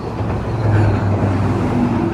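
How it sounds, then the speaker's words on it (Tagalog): Vehicles pass at speed on a road overhead in New Zealand, heard from below near a culvert as a steady low rumbling roar with faint engine hum and no talking. "Mga dumadaan mga sasakyan dyan sa taas."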